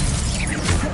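Expelliarmus spell cast in the wizarding video game Hogwarts Legacy, a single loud one-second burst of crackling, crashing magic energy with a smashing impact, no voice over it.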